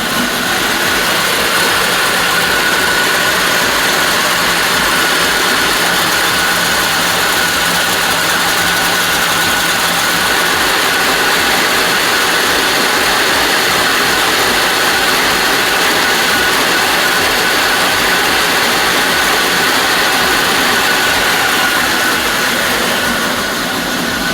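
A loud, steady engine idle runs continuously with a dense mechanical rattle and hiss, unchanging throughout, no voices.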